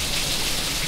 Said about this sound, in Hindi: इतनी तेज बारिश हो रही है, एक बार आवाज सुनो सिर्फ अब